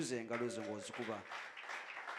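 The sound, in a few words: audience clapping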